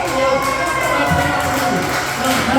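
A comedy club audience claps and cheers for a stand-up comedian, a dense continuous roar of applause and whoops filling the room at high volume.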